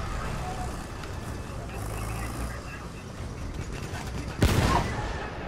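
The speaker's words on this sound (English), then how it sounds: "I'm just shooting the enemies running over the hill." Battlefield 1 gunfire rings out among other battle sounds, with a sharp loud shot near the end above a rumbling background and a talking voice.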